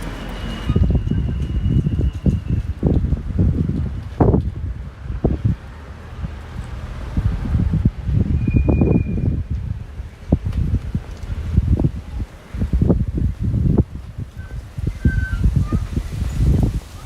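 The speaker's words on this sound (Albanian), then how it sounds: "Frym pak erë sot këtu në Gramsh. Ndoshta edhe zëri nuk dëgohet pastër." Wind gusts buffeting a microphone outdoors in Gramsh, with low rumbling bursts that come and go in uneven waves, loud and close, and a bird chirping faintly now and then.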